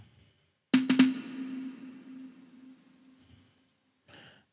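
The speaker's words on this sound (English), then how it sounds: "So the first little lead sound is actually a snare." A pitched 808-style snare used as a lead sound plays a quick run of three tuned hits, then rings out with a long fading tone. A softer noisy burst comes near the end, with otherwise near silence.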